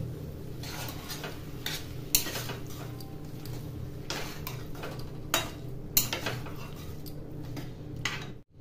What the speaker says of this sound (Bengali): নাড়াচাড়া করে দেব এখন